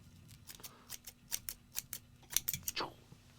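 Scissors snip at fly-tying material for a small steelhead streamer, giving a string of sharp, light clicks in irregular quick bursts, close and fairly quiet, with no voices.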